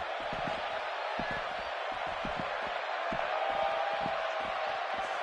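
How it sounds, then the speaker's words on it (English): Arena crowd at a wrestling match in the WWE 2K17 video game, a steady loud roar of cheering that fills the whole stretch, with a commentator talking over it. "by the sound of this crowd, I think they're getting what they wanted"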